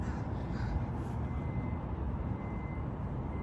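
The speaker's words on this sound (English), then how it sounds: "most of the ones you hear making noise are the blackbirds that are just flying over" Blackbirds call from overhead as they fly over, set against a steady low rumble of distant traffic and wind.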